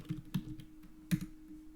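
Fingers type HTML code on a computer keyboard, a handful of soft irregular key taps close by in a quiet room.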